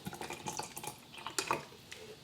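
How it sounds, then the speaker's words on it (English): Sea moss soaking water is poured into a NutriBullet, giving faint splashing and dripping with a few light clinks of container against container, irregular and quiet. "I'll pour some of the water from soaking it"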